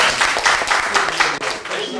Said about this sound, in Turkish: Biz onların alkışlayız